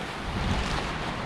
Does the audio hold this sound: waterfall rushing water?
yes